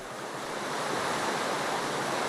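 Flowing water placed in the Minecraft game, modded FTB Infinity Evolved Skyblock, gives a continuous broad rushing wash that swells slightly and holds steady, with no talking.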